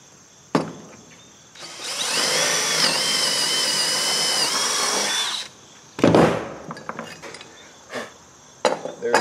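A power drill bores through a utility trailer's deck boards, one loud sustained whining run of about four seconds, followed by a few short knocks and handling clatters.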